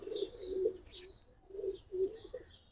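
Giribaz pigeons cooing softly in rolling, throaty phrases with short gaps, mixed with faint chirps and light background hiss, and no talking.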